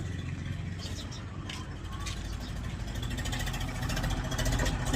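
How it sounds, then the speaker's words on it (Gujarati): A tractor engine runs with a steady low rumble that grows louder over the few seconds, as if drawing closer. "ટ્રેક્ટર અમારે અહીં શેઢે આવી ગયું"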